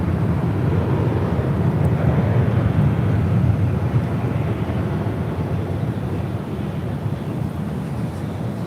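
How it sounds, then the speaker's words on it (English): A Delta Airlines A321neo takes off at LAX with a broad, steady jet roar that holds strong, then eases slightly, mixed with wind noise. "This is Delta Airlines 351 taking off to Lihue on an A321neo."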